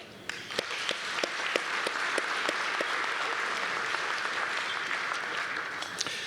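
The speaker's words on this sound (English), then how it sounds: "Just give them a hand." Audience applause for sponsors at a city State of the City address, a steady wash of many hands clapping throughout with a few sharper individual claps, moderately distant and no talk over it.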